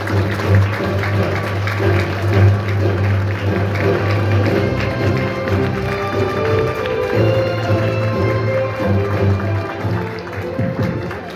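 Crowd claps in welcome of a speaker at an indoor company event, a continuous patter of hands over steady loud background music for about eleven seconds.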